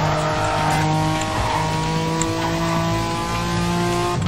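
A racing car speeds along in Need For Speed Carbon, its engine roaring loud and steady with tire squeal and shifting revs throughout.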